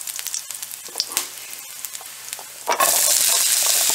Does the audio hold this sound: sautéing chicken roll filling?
yes